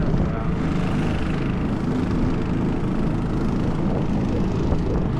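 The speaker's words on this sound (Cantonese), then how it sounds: "後面有架車喺度 硬係㗎。" A car engine idles nearby at Strokkur geyser in Iceland, a steady low rumble holding at the same loudness for the whole stretch, with crowd murmur and outdoor ambience mixed in.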